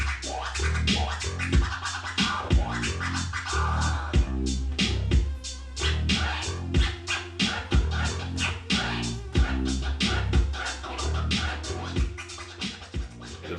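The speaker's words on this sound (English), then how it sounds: "he stopped the record, he stopped it during a sound, and it made a scratch noise" A DJ scratches a vinyl record on a turntable, producing rapid back-and-forth zipping scratches in a rhythmic, busy pattern, loud and close throughout with no talking.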